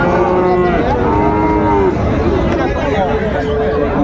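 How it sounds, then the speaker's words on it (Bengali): A Sahiwal bull calf at a crowded cattle market gives loud, close, drawn-out moos over constant crowd chatter, with people talking nearby. "শাহিওয়ালের ষাঁড় বাচ্চা আমরা দেখছিলাম"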